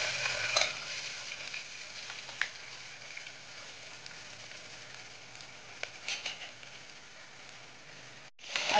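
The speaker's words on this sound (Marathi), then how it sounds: "आता आपण चांगला राईस मिक्स करून घेणार आहोत।" Soaked basmati rice is stirred in hot ghee with bay leaf for jeera rice, giving a steady soft sizzle with occasional scraping clicks of the spoon against the pan.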